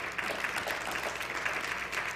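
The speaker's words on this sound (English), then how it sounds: "let's give a round of applause to our joggers for Jesus" A gathered audience claps for a group of joggers setting off, a continuous, fairly soft patter of many hands heard from a slight distance.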